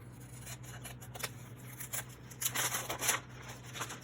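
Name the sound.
scissors trimming a paper security envelope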